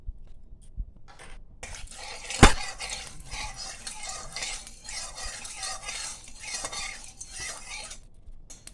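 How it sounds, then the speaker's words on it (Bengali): Prawns frying in a little oil in a hot wok for a potol chingri dish, with steady sizzling and clattering utensil stirring throughout, a sharp knock near the start, and no talk. "এবার কড়াইয়ে অল্প করে তেল দিয়ে আমি চিংড়িটা ভেজে নেব"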